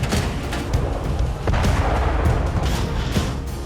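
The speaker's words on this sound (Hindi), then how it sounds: "देखिए। जोरदार धमाके," Missile strikes in wartime Ukraine set off loud, heavy booms that run as a continuous, rumbling barrage of blasts with no pause and no voices.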